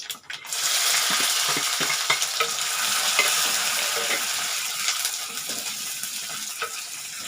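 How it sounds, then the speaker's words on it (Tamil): Garlic, green chillies, curry leaves and onion sizzle and fry steadily in a hot pan with light stirring scrapes, a continuous close hiss with no talking. "கொஞ்சம் லைட்டாக வதங்கி வரட்டோங்க."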